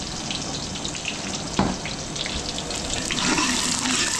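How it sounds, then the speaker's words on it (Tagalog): Water poured into a hot cooking pot, setting off a steady rushing hiss and sizzle that runs without a break, with a sharp splash partway through and no voices. "Lagyan natin ng konting tubig."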